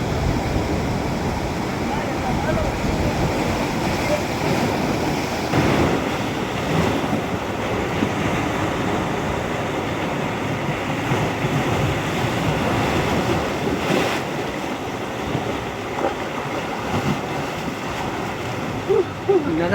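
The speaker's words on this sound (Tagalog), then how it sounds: "Ang lakas ng alon mga kaibigan." Strong ocean waves break on a beach in the morning, a steady loud roar of surf with gusts of wind buffeting the microphone throughout.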